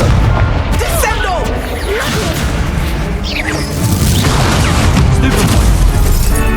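Spell blasts and explosions from the Hogwarts Legacy video game, a dense, continuous barrage of booming impacts and crackling bursts with spoken spell incantations over the top.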